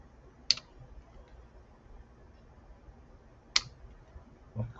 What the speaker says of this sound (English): Cut the tails all off on my zip ties.